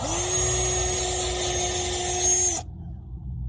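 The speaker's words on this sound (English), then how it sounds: "The better you wire brush it, the easier the new part will go in there." A power wire brush works on a car front wheel hub during hub bearing repair on a Mitsubishi Eclipse, a steady high whirring drone for about two and a half seconds, then it cuts off abruptly.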